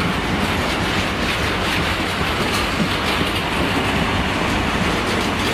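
Trains at Cardiff Central station, a loud continuous rumble of rolling rail wagons with rhythmic wheel clatter close by, and no talk.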